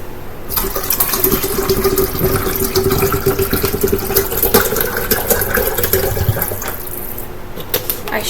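Water is poured from a bottle into the reservoir of a Keurig coffee maker, a steady close splashing and gurgling stream that runs for several seconds before tapering off.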